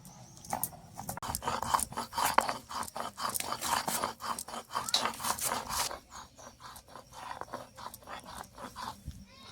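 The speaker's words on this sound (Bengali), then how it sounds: "এবার আমি শুকনো লঙ্কা নিয়েছি, এই লঙ্কাটাকে আমি এখন বেটে নিচ্ছি।" Dried red chilies are ground on a grinding stone in a home kitchen, making a rhythmic, rasping back-and-forth scrape. The repeated strokes are close and moderately loud, then slow and soften toward the end.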